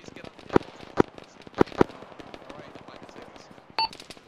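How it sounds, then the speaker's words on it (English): Gunfire in a military combat game: several sharp, loud single shots in an irregular sequence with faint distant popping between them, followed by a brief electronic tone near the end. "Is that outgoing fire friendly on the left?"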